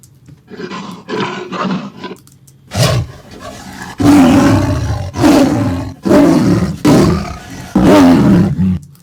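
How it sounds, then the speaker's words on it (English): Tiger roars from an animal sound effects library: a few short grunting growls lead into a series of loud, deep, close roars, each lasting about a second, separated by brief pauses. "we've got these amazing tiger roars that are definitely going to help"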